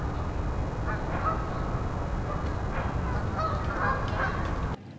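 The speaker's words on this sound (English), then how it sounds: "There's some birds flying." Birds flying overhead in an open outdoor area honk repeatedly like geese, several calls overlapping at a moderate distance over a steady wind-like background rumble.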